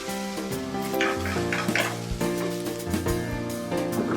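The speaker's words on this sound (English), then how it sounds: "I'm going to add a little more soy sauce." Chicken fried rice sizzles steadily in a hot pan as soy sauce goes in, a continuous close frying hiss with light stirring scrapes, heard under background music.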